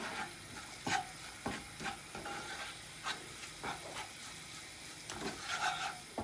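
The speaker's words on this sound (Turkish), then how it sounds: "Görüyorsunuz bu şekilde kavuruyorum." Flour roasting in butter in a pan, with a spoon scraping and stirring in repeated strokes over a soft, steady sizzle, close up and with no talking.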